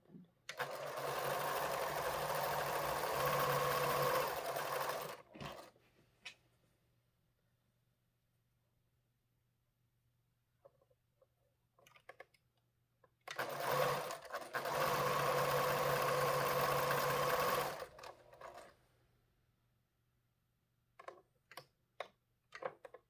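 A sewing machine stitches scrap pieces for a star quilt in two long, fast, steady runs of rapid needle chatter, separated by quiet stretches filled with soft handling clicks and brief voice sounds.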